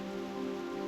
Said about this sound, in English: Go ahead and touch the raindrops.